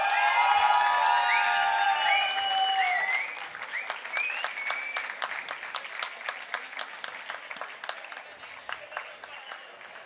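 Convocation audience applauds an award winner; clapping starts under a loud tonal background that cuts off, then continues as distinct, lighter individual claps thinning out.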